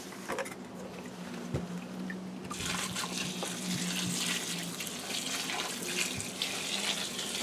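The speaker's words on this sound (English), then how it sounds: "Got to dump some water in there now." Water is poured and dumped onto a back step being cleaned up, a steady splashing gush that swells after a quiet start and keeps running close by, with no talking.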